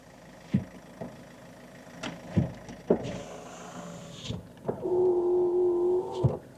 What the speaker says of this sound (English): Windows work. Passenger side front is a little bit noisy, but it works.